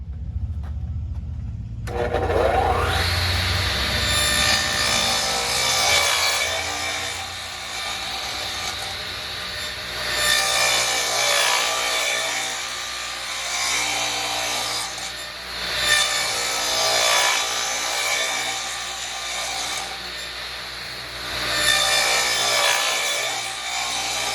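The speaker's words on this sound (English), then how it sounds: "What I'm going to do is cut some 45-degree miters" Repeated hand-saw strokes rasp through wood cutting 45-degree miters in a steady back-and-forth rhythm, close and loud, continuing in bursts with brief pauses.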